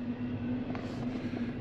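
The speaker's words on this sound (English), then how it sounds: "we've got a train" A train going past, giving a steady mid-distance rumble with a constant low hum and no breaks across the short stretch, while no one talks.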